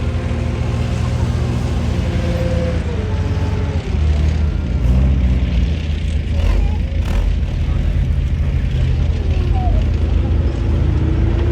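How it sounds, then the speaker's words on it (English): Centurion ARV armoured recovery tank with an L60 Leyland engine manoeuvring over obstacles, a loud continuous low diesel rumble and clatter running throughout with varying engine load. "So that's Centurion ARV showing off there, how it can manoeuvre over these different obstacles."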